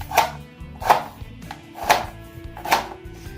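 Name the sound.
cutting potatoes with a knife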